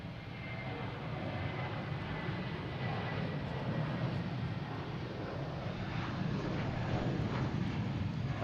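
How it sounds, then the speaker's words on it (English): A jet airliner takes off at Boston Logan International Airport with a steady, broad engine roar, heard from a distance, constant in loudness, and with light wind noise and no talk. "next taking off is Nicole in the Celtics white nose plane,"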